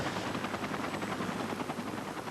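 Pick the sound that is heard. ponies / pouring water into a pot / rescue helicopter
rescue helicopter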